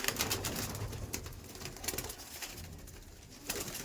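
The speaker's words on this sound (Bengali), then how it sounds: "এখানে চটিয়াল পায়রা দেখুন আরো আছে," Chotiyal pigeons coo at a pigeon market in Dhulagarh, faint and somewhat distant, with soft repeated calls and a few light rustles and flutters.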